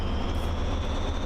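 Locomotive air compressor running in the train simulator game Train Driver 2, a steady low mechanical drone with a constant whine above it, loud and unbroken throughout.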